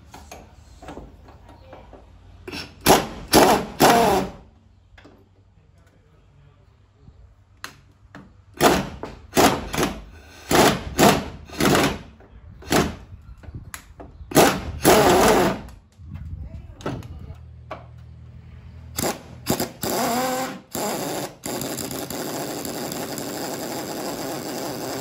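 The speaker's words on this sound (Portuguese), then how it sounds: "favorita, que é a minha chave de impacto pneumática" A pneumatic impact wrench removes engine parts from a 1929 Chevrolet in a home garage, firing in repeated loud rattling bursts separated by quiet gaps, with a longer sustained run near the end.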